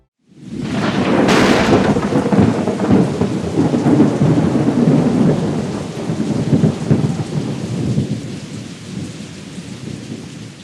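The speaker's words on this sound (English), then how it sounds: "we're starting to feel droplets of rain" Steady, heavy rain pours with rolling thunder, a loud broad wash of rainfall and deep rumbling that holds for several seconds and then eases slightly.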